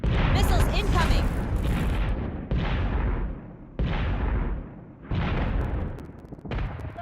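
Flak cannon fire in the Battlestar Galactica Deadlock space combat game: a run of loud, heavy booming bursts about every second or so, each one trailing off into a rumbling decay.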